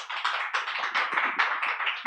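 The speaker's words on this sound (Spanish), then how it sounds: "un aplauso muy fuerte para..." An audience at a university talk on drugs and the brain claps in a brisk, fairly close patter of hands, steady and moderately loud, stopping abruptly at the end.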